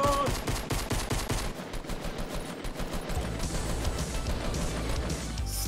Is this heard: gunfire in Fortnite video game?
yes